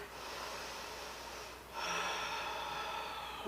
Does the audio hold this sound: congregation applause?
no